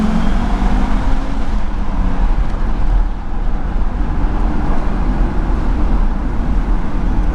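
The five-cylinder engine of an Audi RS2 estate hums steadily at about 2,500 RPM while driving in traffic near a tunnel, a continuous loud low drone with road noise and no voices.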